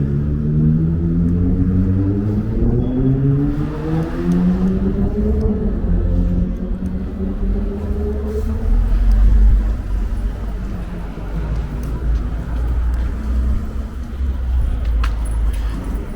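A city bus on 5th Avenue in Brooklyn rumbles past close by, its deep engine drone with falling and rising pitch sweeps over ongoing street noise, then a heavy low surge as it moves off.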